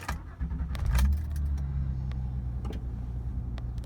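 A car engine cranks and catches, revving briefly before settling into a low steady idle, with a few light clicks and jingles nearby.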